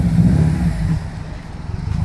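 A 2016 Subaru WRX idles and creeps forward into a garage, a loud, close, low engine rumble that eases off halfway through, with no talking.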